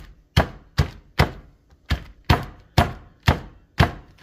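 A mallet pounds whole pecan halves, eight sharp, evenly spaced thuds in a steady rhythm, close and distinct with quiet gaps between each strike.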